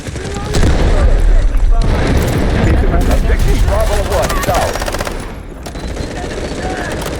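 Rapid bursts of MP7 gunfire and booms in the video game Delta Force rattle close and loud, with voices talking over the shooting.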